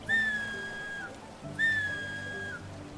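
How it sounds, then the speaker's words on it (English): Two long, clear whistle blasts of an approaching city watch, each about a second, falling slightly at the end, sounded one after the other with a short gap, moderately close. "We could hear the whistles of the city watch drawing closer."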